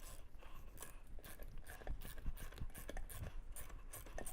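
A ratchet strap cinches down around an anvil and its stand, with quiet, irregular mechanical clicks and clunks close by.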